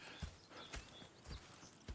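Horse hooves clip-clopping in the Red Dead Redemption 2 video game, a quiet, steady walking rhythm of distinct hoof strikes roughly every half second.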